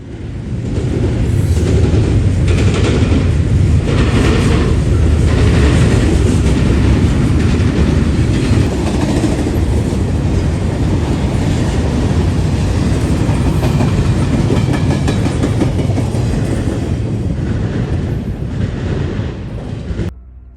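A train rumbles past loudly and close for about twenty seconds at Attica Junction in central Ohio, a heavy continuous roar with rhythmic clatter of wheels over rail joints.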